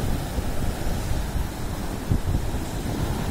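Sea waves wash and surge along the Amalfi Coast shore at Maiori, a steady close roar of surf mixed with gusting wind noise on the microphone.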